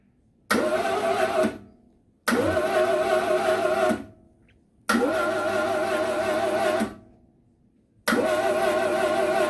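A Lancia Prisma HF integrale engine cranks on the starter in four long, loud attempts of about one and a half seconds each, separated by short silent pauses, without catching.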